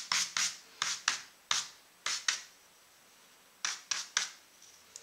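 A brush whisks over dry pastel on paper in short, sharp, close scrapes, a few quick strokes at a time, broken by a brief pause.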